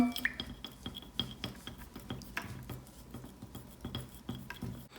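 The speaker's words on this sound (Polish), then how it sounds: "teraz będę mieszać wszystko drewnianą szpatułką" A wooden spatula stirs a wet mixture of water and a few drops of green food colouring in a bowl, making repeated soft scraping, clinking and sloshing strokes, close up, with no talking.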